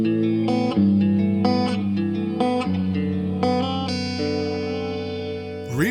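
Guitar chords ring out through an Electro-Harmonix Oceans 12 reverb pedal, each strum leaving a long, lush tail that blooms and lingers, played alone at a moderate, even level.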